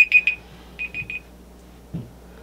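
Workout interval timer alarm beeping in short bursts, three quick beeps then three more, fairly loud in a quiet room, followed by a faint thud.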